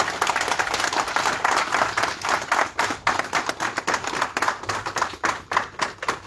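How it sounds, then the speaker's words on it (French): A seated audience applauds Monseigneur Philippe Fanoko Kpodzro at a press conference in Brussels: steady, dense clapping that holds for several seconds, then thins into looser, more scattered claps toward the end. "Je voudrais qu'on puisse l'acclamer avec"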